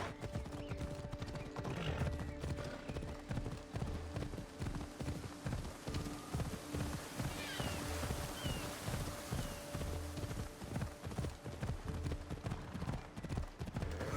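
Horse hooves in Assassin's Creed Odyssey, a rapid, even clip-clop rhythm that runs steadily for about fourteen seconds, with occasional whinnies and soft game ambience in the background.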